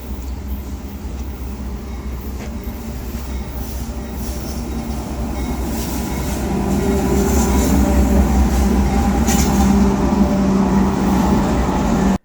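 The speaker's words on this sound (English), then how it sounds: "And we saw another train." A train rolls past on the tracks, a steady rumble that builds louder toward the end, with rhythmic clatter of the wagons.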